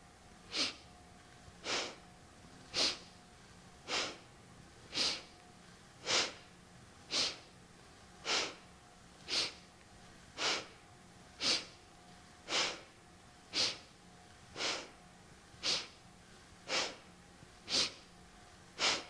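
Rhythmic sharp nasal breaths in Kundalini yoga, about sixteen evenly spaced bursts roughly every 1.2 seconds, close and clear with a faint steady hum beneath.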